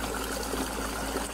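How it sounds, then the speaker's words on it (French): Milk and spoonfuls of orange blossom water pouring into a mixer running at low speed while making crêpe batter, a steady close liquid trickle blended with the machine's constant whir. "Donc versez bien le lait et vos cuillères de fleurs d'oranger à vitesse 4."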